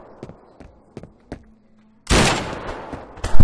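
Gunfire in the video game Garry's Mod: four sharp, separate shots sound in a spaced rhythm, then a loud, dense burst of rapid fire follows and runs on with another hard shot at the end.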